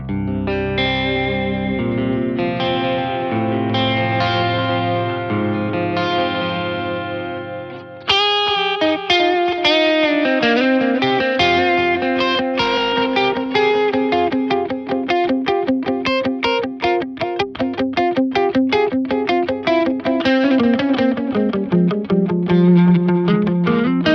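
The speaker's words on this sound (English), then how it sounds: "So that's the digital delay." A Walrus Audio ARP-87 digital delay pedal set with some dampening repeats a played guitar line, giving clean, bright echoes that trail behind each note, a steady, full passage that thickens after the first few seconds.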